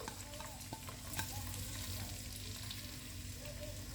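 Soft, steady sizzling of garlic and onion sautéing in oil in a pan, with occasional stirring scrapes, quiet and close.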